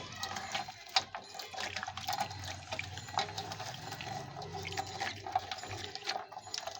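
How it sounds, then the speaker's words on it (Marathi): Bombil (Bombay duck) fish being washed by hand in lukewarm water mixed with flour, giving continuous close splashing and sloshing with small drips, steady throughout. "पिठाच्या पाण्यात असं पीठ लावून हे बोंबील चांगले धुवून घ्यायचे"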